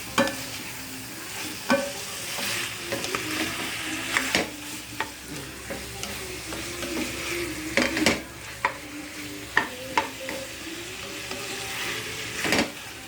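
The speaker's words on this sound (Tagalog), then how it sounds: "Haluin lang mabuti." A mixed dish with oyster sauce frying in a pan while a spatula stirs it, giving a steady close sizzle broken by irregular scrapes and clinks against the pan, with no talking.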